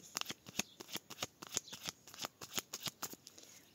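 A deck of tarot cards is cut and shuffled by hand, making a quick run of crisp, close riffling snaps and flutters in an otherwise quiet room.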